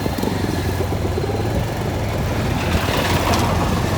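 A motorcycle engine runs in a steady, close, continuous rumble with no clear revving or pauses.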